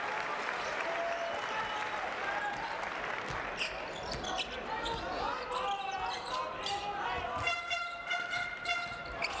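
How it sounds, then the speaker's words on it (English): An Icelandic home crowd cheers and claps at the Iceland v Italy FIBA EuroBasket 2025 qualifier basketball game. The roar is sustained, with whistles and horn-like tones rising near the end and court sounds mixed in. "the Icelandic crowd getting excited"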